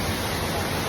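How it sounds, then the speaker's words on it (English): Bradley Falls near Saluda, North Carolina, gives a steady, even rush of falling water that fills the scene with constant broadband noise. "It's our first waterfall."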